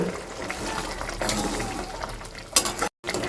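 Curry gravy with green chillies simmering in a pan over a high gas flame, a steady low bubbling and stirring hiss with a brief louder clatter near the end, no talking.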